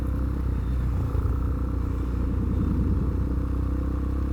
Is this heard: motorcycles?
yes